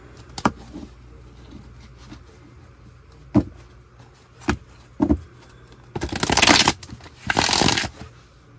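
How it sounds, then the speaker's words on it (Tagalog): A deck of tarot cards being shuffled: a few sharp, separate riffles and taps, then two longer, louder bursts of rapid card flutter near the end, with no talking over them. "Balasahin lang muna po natin."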